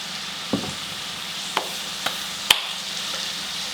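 French fries dropped into 375-degree oil for a final deep fry, giving a steady bright bubbling hiss broken by a few sharp clinks and taps.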